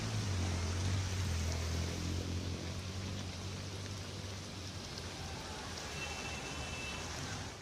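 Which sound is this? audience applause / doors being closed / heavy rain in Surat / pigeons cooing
heavy rain in Surat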